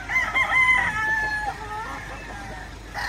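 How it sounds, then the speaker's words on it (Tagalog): A rooster crows close by on a chicken farm, one long drawn-out call with other birds calling faintly behind it. "Video tayo uli sa mga manok niya."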